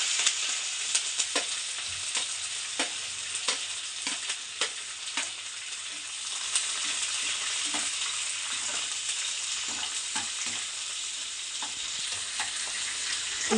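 Onion, green chili and curry leaves frying in hot oil for a Tamil bread podimas dish, giving a steady bright sizzle with spitting crackles and occasional stirring clicks, close and continuous with no talking.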